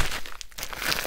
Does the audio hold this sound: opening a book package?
yes